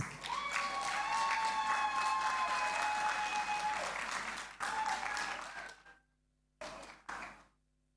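Audience applause at a graduation ceremony: dense sustained clapping from a crowd, steady and loud for several seconds, then fading out with a brief final burst before silence.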